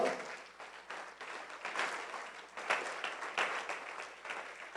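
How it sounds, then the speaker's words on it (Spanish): Applause from a church congregation during a Spanish-language sermon, a steady wash of many hands clapping at moderate distance, swelling in a few waves and sustained throughout without speech. "Dale un fuerte aplauso al Señor."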